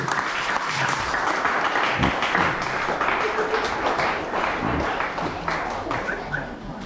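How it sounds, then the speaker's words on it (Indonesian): A crowd applauds steadily at a community gathering in Kampung Brunei, Membakut, dense clapping filling the space for several seconds without pause, loud and close. "Berikan tepukan yang gemuruh."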